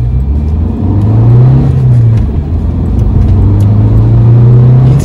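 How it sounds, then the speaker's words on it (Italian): A Fiat 500 S with a 1.3 Multijet 95 CV diesel pulls away in first gear, its close engine hum climbing, dipping briefly at the shift point and rising again, with faint road whir and no talking. "mettiamo la prima, pedale della frizione molto morbido e partiamo"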